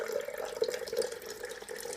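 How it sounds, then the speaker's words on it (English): Coffee pours from a coffee maker's glass pot into a cup in a steady, gentle trickle, close and moderately quiet, with no talking. "So you just pour it carefully to how many cups you want."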